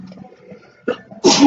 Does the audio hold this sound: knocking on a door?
no